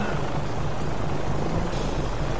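Steady, loud helicopter rotor and engine drone from the 2004 Sammy arcade game Ranger Mission, a continuous chopping roar with no pauses.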